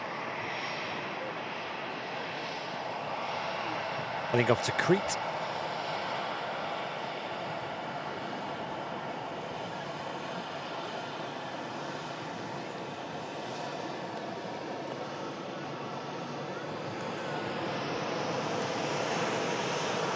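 A Jet2 Boeing 757 airliner roars past as its engines hold a broad, steady rumble that swells again toward the end, with someone speaking briefly over it and a short knock near the mic.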